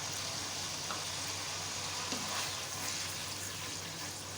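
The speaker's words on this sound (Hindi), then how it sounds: "थोड़ा सा होल स्पाइसेस के साथ इसको भूनने ताकि इसका अरोमा आ जाए ऑयल में" Whole spices (bay leaf, cloves, cardamom, cinnamon) fry in hot oil for a chicken pulao, giving a steady, even sizzle and crackle that stays close and constant throughout, with no voices.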